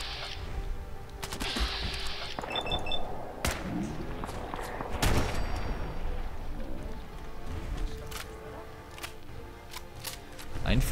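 Gunfire crackles through Fallout 4 in a hospital in Kendall: sharp, loud reports spaced irregularly among clicks and mechanical clatter, with someone speaking during the clip.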